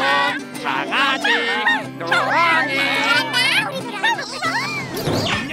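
A small dog yips and barks in quick bursts amid lively talking voices and background music.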